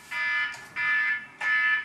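A timer alarm going off in the video game Thrasher Skate and Destroy: three loud, shrill electronic beeps, each held about half a second, in a regular repeating pattern with short gaps between them.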